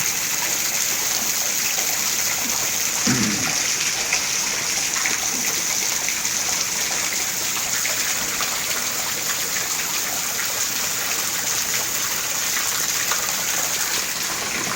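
Steady, dense rain falls near a house where floodwater has pooled like a pond, a continuous broadband wash with no pauses or voices.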